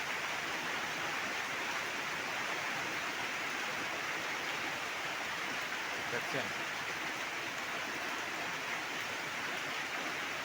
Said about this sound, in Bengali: দেখুন এই যে বৃষ্টি, প্রচুর বৃষ্টি হচ্ছে।